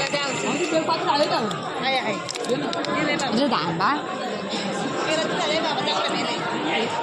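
Dense crowd chatter at Bhimashankar temple on Mahashivratri, many overlapping voices murmuring and calling out close by, steady throughout.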